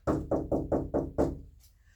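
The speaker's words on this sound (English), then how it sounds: "I'm going to just walk over to the front door and I'm going to just knock on the patient's door." Six firm knocks on a patient's front door in an even rhythm, close and clear, followed by quiet.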